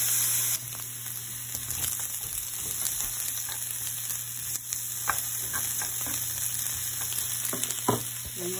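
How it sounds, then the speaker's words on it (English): Asparagus fries in oil in a pan, sizzling and crackling steadily up close. Occasional pops and scrapes break through the hiss. "I have my asparagus in a frying pan"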